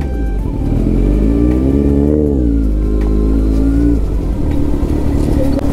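A big 950 cc motorbike engine on a rough Kashmir mountain road roars loud and close, its pitch climbing and dipping as it revs, then settling into a steady run.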